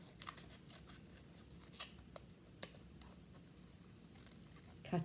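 Scissors snipping paper shapes for a parrot art craft, a few soft, quiet cuts spaced out over a hushed room, with a louder rustle at the end.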